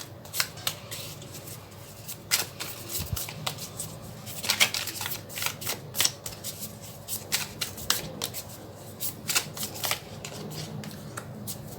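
Tarot cards being shuffled by hand during a reading, giving sharp riffling snaps and soft slides in irregular bursts, close and fairly quiet against a faint background.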